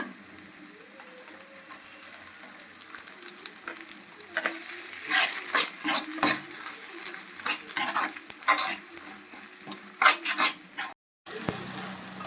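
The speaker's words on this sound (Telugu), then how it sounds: "ఇప్పుడు పచ్చిమిరపకాయలు అయితే వేస్తున్నాను" Green chillies frying and being stirred in a pan for country chicken curry: a continuous oily sizzle with repeated scraping stirs and clinks growing busier midway, close and moderately loud.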